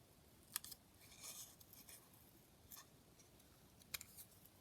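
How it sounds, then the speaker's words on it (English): Scissors snip through paper while a paper flower is cut out for a junk journal, a few faint, crisp clicks spaced irregularly in a quiet room. "Let me just cut that flower off."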